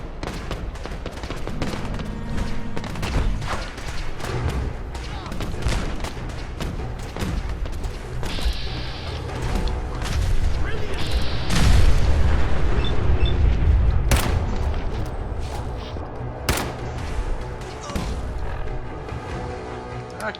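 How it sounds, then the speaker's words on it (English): Sustained gunfire and repeated explosions in Fallout 4: loud, dense volleys of shots mixed with booming blasts, swelling to a heavy rumble in the middle and continuing steadily throughout. "I'm assuming I'm shooting the right people and they're not gonna waste me."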